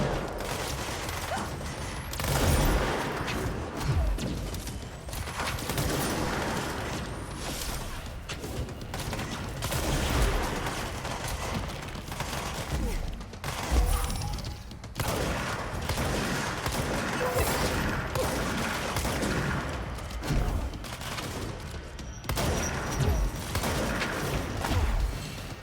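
Gunfire and grenade blasts from the video game Control crack and boom in repeated heavy hits through a dense, busy combat mix, with mechanical clatter between the explosions.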